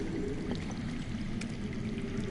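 Underground water flows steadily in the Game of Thrones Telltale video game, a continuous pouring, rushing wash that stays even throughout with no talk over it.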